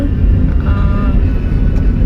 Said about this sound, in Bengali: গাড়ির মধ্যে আছি